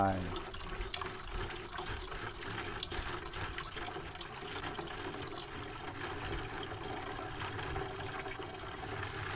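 A large bottle of vinegar glugs steadily into a container while an insect-repellent ferment is mixed, a close, continuous splashing pour lasting several seconds, with a voice heard at times.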